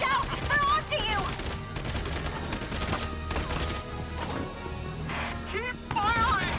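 Rapid gunfire crackles through a Valkyria Chronicles 4 skirmish battle, dense overlapping bursts and shots continuing steadily and loudly, with voices calling out over the combat.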